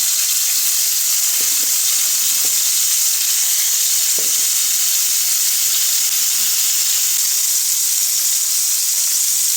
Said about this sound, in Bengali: প্রথমেই আমি কই মাছ ভেজে নিচ্ছি